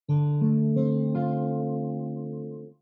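An acoustic guitar minor chord, fourth string open, is picked note by note, the strings building into a sustained ringing chord that slowly fades, with no talking.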